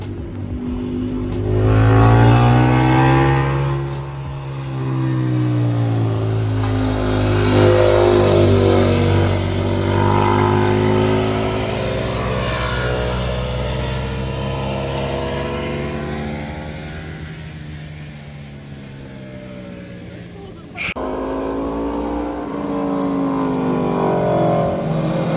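Motorcycles racing past on the Nürburgring track, with engines rising loudly as they near, sweeping in pitch as they pass and fading, several bikes one after another, heard alone from trackside.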